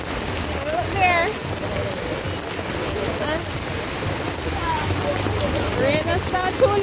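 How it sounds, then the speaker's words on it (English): Rain falling on a Jamaican street amid Saturday traffic, a steady hiss of drops on surfaces throughout, with birds or whistles chirping faintly over it and voices nearby. "And it rains!"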